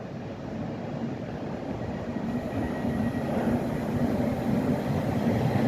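A twelve-coach Class 315 electric train rumbles along the rails in a steady low roar that slowly swells, with no voices over the continuous rolling drone.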